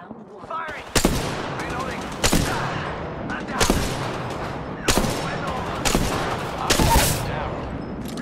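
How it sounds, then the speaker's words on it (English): Gunfire in the Apex Legends battle royale game comes in repeated loud, sharp bursts roughly once a second, with game chatter and effects between the shots. "They're shooting at me."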